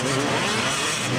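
An old 450 dirt bike engine roars continuously at high revs, loud and close, with no pause.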